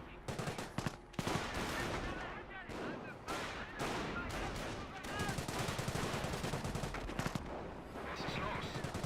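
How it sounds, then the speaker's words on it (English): A G43 rifle fires in a Company of Heroes battle, with repeated sharp shots set against dense, loud gunfire and explosions from the surrounding combat. "G43 firing away."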